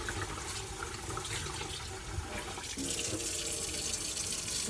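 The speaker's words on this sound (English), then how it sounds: "we're going to wash the rice 3 times with some warm water" Warm tap water runs steadily into a bowl of rice being washed, a constant splashing hiss with a brief shift in the flow partway through, close and alone.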